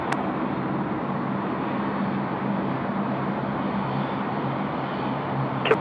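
A jet airliner taking off at night at Sydney Airport, heard as a steady, continuous broadband roar that holds at an even level throughout, with no talk over it.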